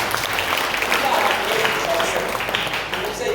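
A church congregation at a funeral farewell breaks into steady, sustained clapping that fills the room, with voices murmuring underneath.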